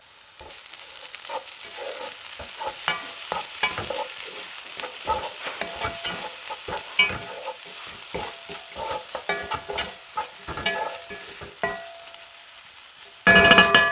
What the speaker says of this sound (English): Now add in the coriander and the spring onions and mix well and allow it to cook for 2